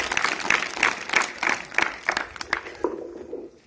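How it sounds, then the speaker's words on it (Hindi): Students in a Class 10 school classroom clap in a quick sequence of sharp, separate claps, moderately loud and close, with murmuring voices underneath and the clapping thinning out toward the end. "इसके लिए 3 तालियां बजाएं"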